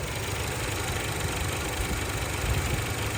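A Honda HR-V engine idles steadily at close range, a low continuous rumble with even mechanical vibration and no voices.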